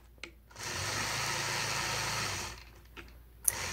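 A sewing machine stitches a quilt guided by a ruler, running in one steady, even burst of about two seconds, with light clicks and handling noises before and after.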